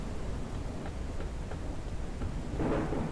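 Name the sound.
thunderstorm in video game Forever Skies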